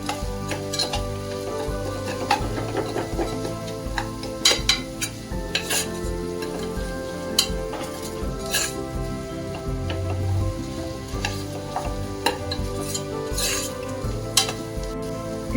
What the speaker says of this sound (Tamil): இப்போ இதில் தக்காளி நல்லா ஸ்மாஷ் ஆகட்டும்.